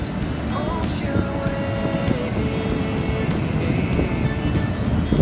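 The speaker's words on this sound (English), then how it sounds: "I think I'll just stay here and stare at my ocean" Ocean waves at Formby Point make a steady, broad wash of surf with wind, continuous and moderately loud throughout.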